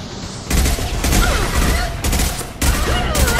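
Sustained automatic gunfire from a Mass Effect 2 firefight rings out loud and dense in repeated bursts with brief gaps, plus a few faint game voice fragments.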